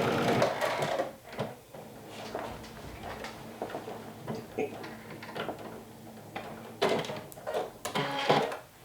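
A home sewing machine stitches a skirt pocket in quiet, uneven bursts of rapid ticking, with soft handling noises between runs.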